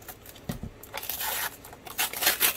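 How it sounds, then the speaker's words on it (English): Tape is pulled and peeled off a flat mail envelope, making a close, crackly tearing and ripping that builds in rough, uneven bursts over a couple of seconds. "And untape it."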